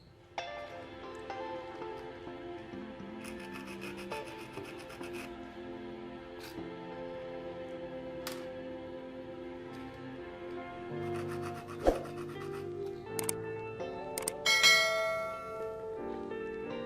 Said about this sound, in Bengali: আমি কার্বনগুলো একটু ঘষে দিচ্ছি।